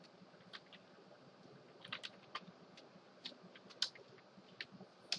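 Sparse, irregular keystrokes on a computer keyboard while CSS is typed, a few isolated clicks at a time over a faint background hiss, fairly close and quiet with no talk.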